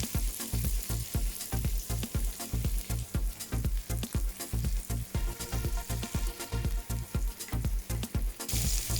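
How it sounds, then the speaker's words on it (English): Onions and curry leaves frying in a pan over medium flame, a steady dense sizzle with rapid crackling pops and occasional stirring, continuous and close. "Mix periodically and fry until the onion turns golden brown."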